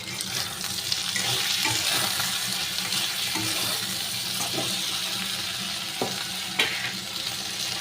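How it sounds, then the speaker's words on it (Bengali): Water poured from above onto ground mustard and green chili paste in a pan, making a steady wet splashing and trickling with faint sizzling, close and continuous, no talk. "এবার উপর থেকে জলটা দিয়ে দেবো।"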